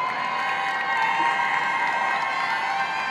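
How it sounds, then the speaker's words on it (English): Audience applauding and cheering at the 2022 US Barista Championship round one for a barista, a sustained even wash of clapping with crowd noise. "let's give Meg another big round of applause"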